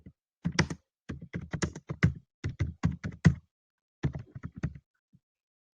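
Close, crisp typing on a computer keyboard, coming in quick clusters of keystrokes separated by short pauses, with a longer gap near the end before a last few taps.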